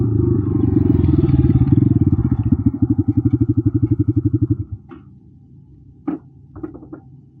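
A 2026 KTM Duke 250 single-cylinder motorcycle engine runs while riding in third gear, a loud rapid thumping pulse that gradually slows and fades, followed by a few faint clicks near the end.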